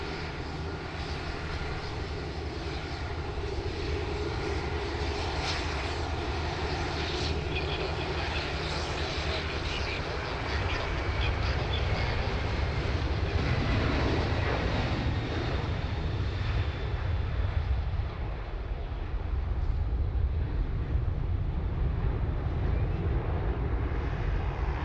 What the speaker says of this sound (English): The beautiful A330 900 Neo. She's going to make her way onto taxiway Golf